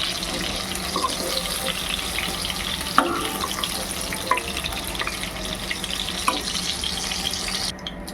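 Battered chicken frying in hot oil for gravy chilli chicken, a steady, dense bubbling hiss that runs close and continuous, with a few faint clinks, no talking.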